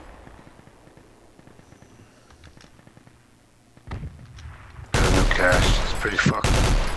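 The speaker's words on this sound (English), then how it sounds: "Is that an APC? Yeah, that's an APC shooter." Heavy automatic gunfire from an APC in the military shooter game Project Reality, breaking in suddenly and loud after quieter battlefield ambience with a distant thud, continuing as dense bursts, with brief talk early on.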